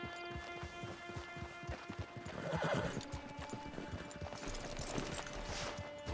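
A horse in Red Dead Redemption 2 whinnies loudly at mid-clip, with steady hoof clip-clops running throughout over a faint game backdrop.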